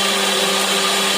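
A kitchen mixer grinder blends cooled cooked carrots, a loud steady motor whine with a tonal hum that runs without pause before cutting off abruptly at the end.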